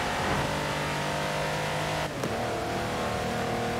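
A car engine drones steadily while driving in the video game Forza Horizon 4 during a stunt challenge, a loud, constant hum with a brief dip and shift in pitch partway through.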